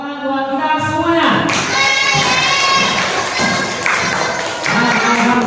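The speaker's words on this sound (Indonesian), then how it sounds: "Tepuk tangan buat kita semuanya." Children in a classroom clap together for everyone at the end of an Islamic religious studies lesson, a dense, loud burst of applause mixed with thumps and excited kids' voices throughout.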